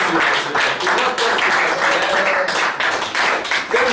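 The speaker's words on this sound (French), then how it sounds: "Acclamation pour le Seigneur." Church congregation applauding in praise during a French-language service, a dense, steady wash of many hands clapping close by with some voices mixed in.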